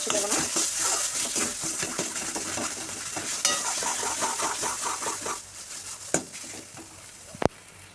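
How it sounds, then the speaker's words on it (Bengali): Banana flower greens with turmeric and salt are stirred in a pan, making rhythmic close scraping and sizzling strokes, then quieter frying with a couple of sharp metallic clinks near the end. "তো দেখো বন্ধুরা, একদম ভালোভাবে নেড়ে করে দিয়েছি"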